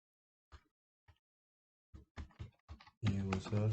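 A computer keyboard is typed on while writing ASP.NET MVC code, a few scattered soft keystrokes, then a quicker cluster of clicks before a voice starts talking.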